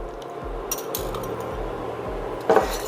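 A whisk scrapes steadily around a pot of thickening lemon cream with beaten eggs, each stroke a rhythmic metallic clink and scrape, close and alone.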